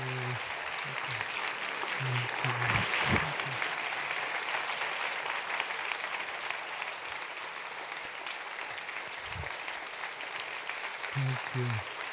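An audience applauds to welcome Brother David Steindl-Rast, steady dense clapping lasting about twelve seconds, with faint voices and low thumps mixed in.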